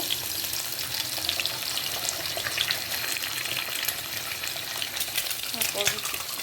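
An egg fries in a hot pan with a dense, steady crackling sizzle that holds at an even level throughout, with no talking.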